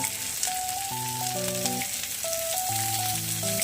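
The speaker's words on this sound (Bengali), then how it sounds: "এরপরে আমি এই আদার কুচিটা দিয়ে দিচ্ছি আর লঙ্কার কুচিটা আমি দিয়ে দিচ্ছি।" Minced garlic, ginger and chopped green chili fry in hot oil in a pan for a mutton egg tarka, a steady close sizzle that runs throughout while sustained musical tones play over it, with no voices.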